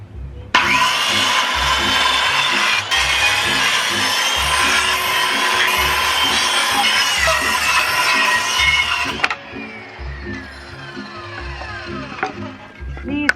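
A power tool rips through rough firewood-quality wood being cut for workshop shelving, a loud close buzzing cut that runs about nine seconds, then stops as the motor whines down.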